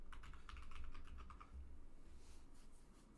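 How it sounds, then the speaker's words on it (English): A computer keyboard taps quietly as a password is typed at a Debian login on old hardware, with a quick burst of keystrokes followed by a softer, sparser tail. "So we're just going to go ahead and put our username in, our password"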